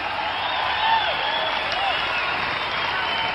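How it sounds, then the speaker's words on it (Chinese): An audience at a sanda fighting match applauds in a steady, broad wash of clapping while a voice speaks over it. "我们应该为白金斌这样的精神鼓鼓掌。"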